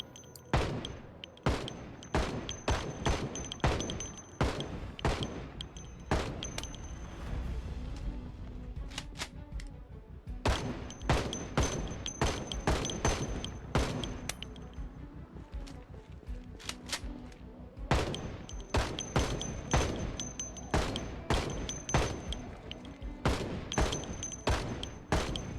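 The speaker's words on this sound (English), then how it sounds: "I'm gonna move a little bit closer here and shoot in this area where I'm running" Gunfire in the zombie survival game Project Zomboid fires in rapid bursts of loud, sharp shots, dense volleys broken by short pauses across the stretch, with no talking over it.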